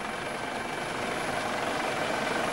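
A military helicopter hovers over the sea near a frigate and small boats, its steady loud rotor drone and engine roar filling the air without a break.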